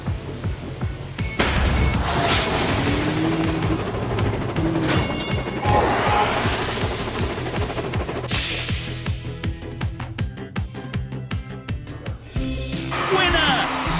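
Crashes, clanks and mechanical ratcheting from the Train Go Ashima train video game, several loud impacts over a busy, continuous bed of game sound effects and music.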